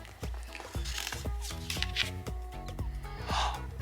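Bookopoly game cards being shuffled by hand, a close series of crisp riffling snaps and flutters repeating in quick bursts, with no talking.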